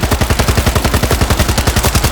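Rapid automatic gunfire from the World War Z video game rattles in a steady, evenly spaced burst of loud, close shots that run without a break.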